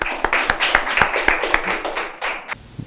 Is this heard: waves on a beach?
no